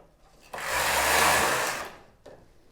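The main bed carriage of a Knittax knitting machine slides across once in a smooth, loud rasping sweep lasting just over a second, followed by a brief quieter clack.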